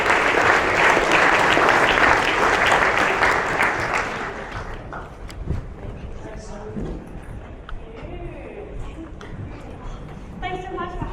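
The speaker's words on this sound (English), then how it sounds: "Let's give her a huge round of applause." An audience at a promenade event bursts into loud, dense applause that lasts about four seconds before dying away to scattered claps, shuffling and quiet voices.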